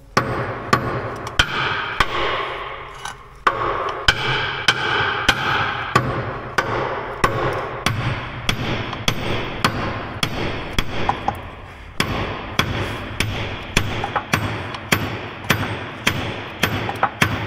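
Repeated heavy hammer blows strike the steel track frame of a Dresser IH TD-25G bulldozer during repair, loud and close, landing in a steady rhythm of sharp metallic thuds roughly every half second.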